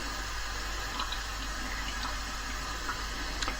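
Water runs steadily while Super 8 film is washed to strip off its remjet backing, a continuous hiss of flowing liquid with faint splashes throughout.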